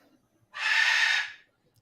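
A bird lets out a single harsh, breathy screech lasting under a second, close and fairly loud against an otherwise quiet room.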